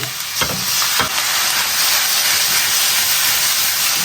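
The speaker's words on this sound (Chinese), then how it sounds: "下入焯水的羊肉卷， 碗汁分2次淋入" Blanched lamb rolls stir-fried with a sauce in a hot wok, a loud, dense hiss of sizzling with two quick scraping tosses near the start.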